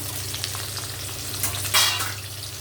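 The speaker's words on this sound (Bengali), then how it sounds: "গোলমরিচ, গোটা এলাচ, লবঙ্গ, দারচিনি সব ভেজে নেব।" Whole spices of black pepper, cardamom, cloves and cinnamon frying with chopped onion in hot oil, a close steady sizzle with a low hum underneath and a brief louder hiss partway through.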